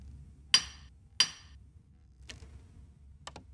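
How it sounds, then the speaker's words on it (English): Sharp metallic hammer strikes in the video game Buried: two loud clanks about half a second apart, then fainter ticks and a quick double tap over a quiet low hum. "we're able to unscrew this and hammer at the same time"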